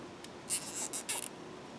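A plastic zip tie is threaded around the plastic door catch of a Chevy Cruze, giving a few quiet, brief scratchy rubs and rasps close by, with no talking.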